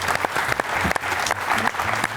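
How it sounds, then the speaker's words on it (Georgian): Studio audience at a televised book quiz game claps warmly, a dense and lively round of applause with some distinct nearby claps, a voice faintly mixed in. "გთხოვთ რომ მხურვალე აპლოდისმენტებით გავახსნევოთ კარტობიან."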